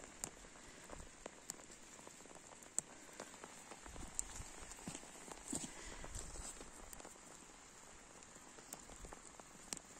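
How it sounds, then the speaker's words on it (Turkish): Rain falls steadily on a muddy farm where mint is growing, a dense patter of drops with a few sharper taps and thuds, close and continuous with no talk. "Yine yağmur başladı çok fazla."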